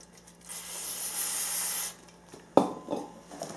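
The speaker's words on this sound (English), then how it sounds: "Spray it on that rag." Cleaner sprayed onto a rag while fitting a LEXX MXe dirt bike exhaust: one sustained, fairly loud hiss of about a second and a half, then quiet, followed by a sharp knock and light handling noises.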